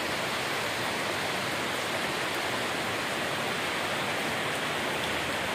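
Floodwater from Typhoon Kristine rushing steadily past, a dense continuous hiss and churn close by with no pauses and no voices.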